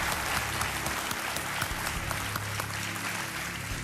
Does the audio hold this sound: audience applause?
yes